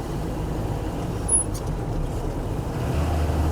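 A 1979 Toyota Land Cruiser FJ40 diesel drives on the road, a steady low engine drone and rumble with road noise, constant and fairly loud from inside the cab.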